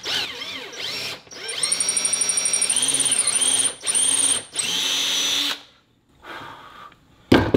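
A power drill boring a hole for a bottle opener whirs loudly in several bursts, revving up and down between short pauses, then falls silent near the end before a brief clatter.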